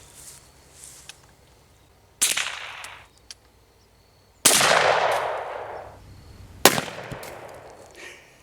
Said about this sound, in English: So I'm going to hit the gopher, the yellow gopher down there with the 22, and then I'll blast the shaving cream can with the 410.